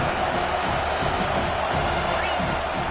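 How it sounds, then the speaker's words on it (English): Stadium crowd at a football game roaring steadily for the defense on third down, a dense sustained wall of cheering and noise with no pauses. "Decibels rising as the crowd gets behind this defense on third down."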